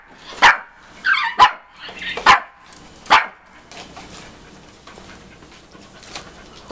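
Several sharp dog barks and yips in quick succession at the start, then quieter panting and scuffling noise as the barking stops.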